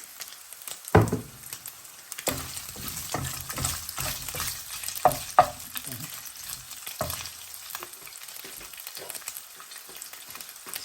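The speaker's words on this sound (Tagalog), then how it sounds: "Now we'll put some olive oil para tayo maggigisa na ng bawang at kamatis." Garlic and tomatoes sautéing in olive oil, a close crackling sizzle with a sharp burst as food hits the pan, then steady frying broken by stirring scrapes.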